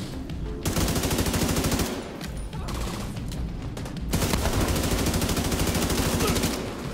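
Sustained automatic gunfire from a firefight in The Division 2 on PC, a dense rapid stream of shots broken by a brief lull mid-clip, then heavy continuous firing resumes, loud and close.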